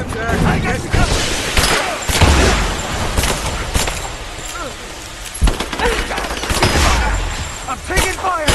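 Bursts of gunfire in the video game Rise of the Tomb Raider crackle in rapid volleys, mixed with booms and shouted voices, loud and dense throughout.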